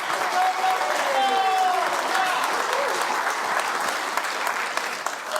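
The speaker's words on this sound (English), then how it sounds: "Let's give her a round of applause" Audience applause at a live pitch event, honoring a leadership coach in the crowd: dense, steady clapping fills the whole stretch at an even level, with a few cheers and murmured voices mixed in.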